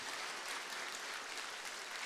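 A church congregation at a Sunday service applauds a missionary just back from Africa: a steady, faint wash of many hands clapping, heard alone without talk.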